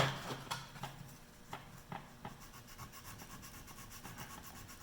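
A wooden gun stock is sanded by hand with 80 grit sandpaper, giving faint, rhythmic rasping strokes close by, one after another with no talk.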